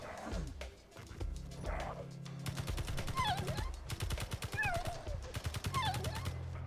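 Dogs attacking a player in the survival game Space Engineers, with rapid, overlapping barks and yips in loud repeated bursts, set among game noise and a low engine-like hum, with speech underneath at times.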